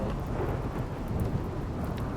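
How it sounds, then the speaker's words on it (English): Thunder from a lightning strike in the middle of a field in the video game RimWorld, a steady low rumble with rain-like hiss that rolls on without a break and stays loud and full. "We got a lightning strike right in the middle of the field."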